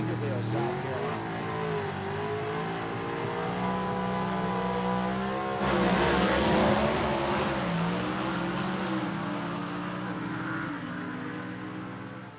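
A gasser drag race car roars off the line and screams down the dragway at a Southeast Gassers Association event at Gulfport Dragway, a long, loud engine howl rising and falling in pitch as it recedes, with a commentator talking over it.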